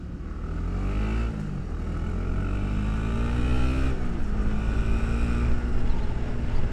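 Busy road traffic at night, with a steady close engine rumble and drone of passing cars that slowly swells, no talking.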